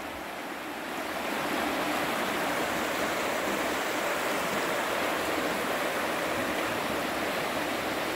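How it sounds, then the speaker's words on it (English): The Hiawassee River rushes steadily nearby, a loud, continuous broadband roar of flowing water that swells in the first second and then holds evenly throughout, with no talking. "The beautiful Hiawassee River."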